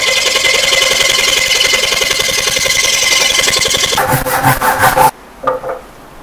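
A Japanese Gyokucho-style Ryoba pull saw cuts softwood against the grain in fast, steady, loud strokes, then a few slower final strokes as the cut finishes, with brief scraping after.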